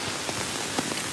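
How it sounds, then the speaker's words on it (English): Heavy Singapore rain pouring down outdoors, a dense, even hiss of falling water with faint scattered drops, steady and close, no voices. "This is Singapore drizzle."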